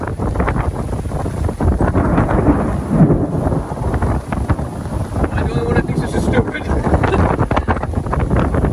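Loud thunder rumbling through a severe storm under a tornado warning, a sustained roar mixed with heavy wind buffeting the microphone and rain, continuous and close throughout.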